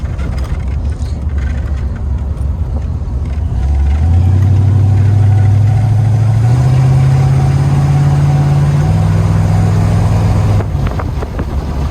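A 1928 Ford Model A with a three-speed automatic driving down the road, its loud engine droning under wind noise and rising in stepped pitches as it gathers speed through the gears.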